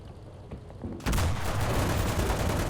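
Gunfire in the World War II shooter Enlisted, set during the Normandy landings: a quiet stretch gives way to a sudden loud burst of cannon and machine gun fire that keeps rattling densely to the end.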